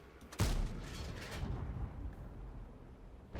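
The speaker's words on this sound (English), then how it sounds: "So let's go for a 4th blind shot." A tank gun fires a single blind shot in World of Tanks, one sharp booming blast with a deep low rumble that fades into a lingering rolling tail, heard alone without talk.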